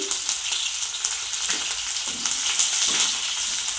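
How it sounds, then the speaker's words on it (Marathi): Ginger, garlic and chili hit very hot oil over a high gas flame, giving a loud, dense, crackling sizzle that goes on with no break. "तेल चांगलं कडकडीत तापलं की मोठ्या गॅसची फ्लेम करून आपण याच्यामध्ये आलं आणि लसूण टाकायचं आहे"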